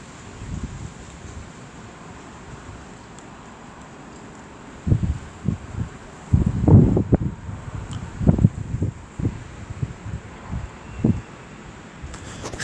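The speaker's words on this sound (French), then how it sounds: "Il y a une rafale qui arrive dans pas longtemps là." Violent storm gusts reaching about 120 km/h in the Rhône roar through in a series of loud, rough bursts after a steadier background of wind noise. No one speaks.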